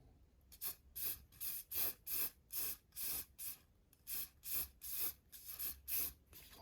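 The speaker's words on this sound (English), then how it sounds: "I'm using hairspray as an adhesive, by the way." Hairspray from an aerosol can sprayed onto dark green scatter material on a model tree, a rapid series of about fourteen short, close hissing bursts with brief gaps between them, alone without talk.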